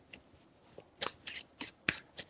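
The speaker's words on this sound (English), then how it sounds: "3 shuffles." Several quick riffling bursts of a card deck being shuffled, each a short papery flutter separated by brief pauses, close and fairly quiet.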